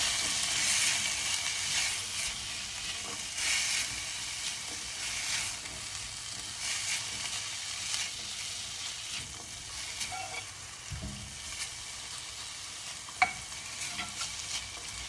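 Green peas and carrots frying and being stirred in a pan for sooji upma, a bright hiss that starts loud and settles lower, with occasional scrapes and a clunk near the end, no voices.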